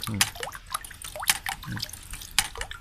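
Water drips and trickles from small holes in a homemade solar-pump-driven water wheel, a steady patter of close drops with brief gurgles, a voice faintly beneath.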